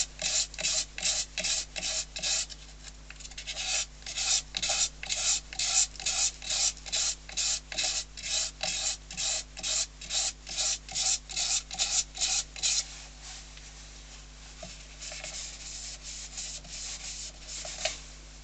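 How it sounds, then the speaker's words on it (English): Hand sanding a yew wood bowl with heavy splitting, a brisk rhythmic rasping of quick back-and-forth strokes, close and loud, easing into softer rubbing near the end with no talking. "Just sand that way, opposite way of the lines."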